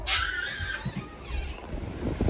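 Gusty seaside wind at a beach in St. John's, Newfoundland, buffets the microphone with low rumbling bursts and a breathy outdoor hiss, rising and falling throughout.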